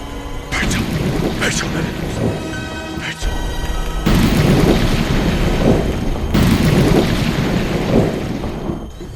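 Thunder of an approaching storm rolls in, with heavy low rumbling that swells in several loud surges under a windy, noisy background, and some voices faintly present.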